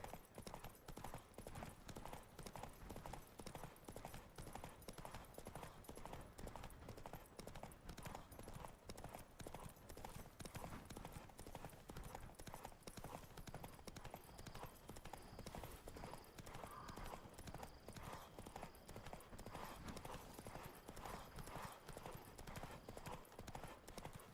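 A horse gallops in the video game The Witcher 3, its hooves beating out a fast, even clip-clop that continues without a break through the whole stretch.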